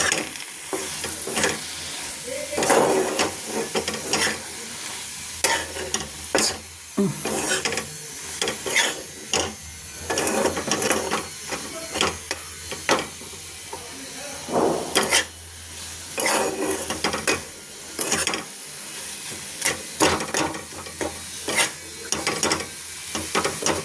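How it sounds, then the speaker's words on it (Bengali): Bombay duck fish frying with Kashmiri chili in a pan sizzles steadily, broken by repeated scraping and stirring strokes of a spatula, with no talk. "এবারে এটাকে ভাজা ভাজা করব।"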